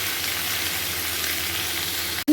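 Cauliflower, potato and katla fish frying with spices in a pan, a steady close sizzle that holds evenly, then cuts out sharply near the end before a brief clunk.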